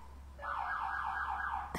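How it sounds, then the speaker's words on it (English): Car alarm going off outdoors, a loud warbling electronic tone sweeping up and down in rapid cycles, starting abruptly and ending in a sharp click. "I'm yelling at a car alarm now."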